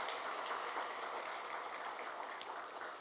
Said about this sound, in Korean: 우리 아이네어 찬양대를 향해서 한 번 더 크게 우리 감사의 박수를 한번 불러냈으면 좋겠습니다